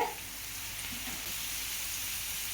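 Onions frying in a pan with a little salt, a steady close sizzle and crackle that holds evenly throughout with no talking.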